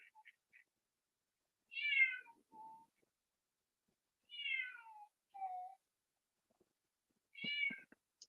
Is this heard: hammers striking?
no